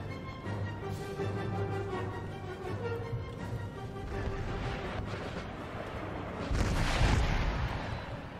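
Artillery barrage in Empire Total War, the Ottoman Empire's cannons booming repeatedly over a low, continuous battlefield rumble, with a heavier, louder blast swelling near the end.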